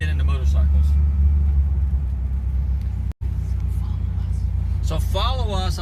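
A 1955 Mercury Montclair rolls along on the road, its steady low engine and road rumble filling the cabin throughout, with people talking over it now and then.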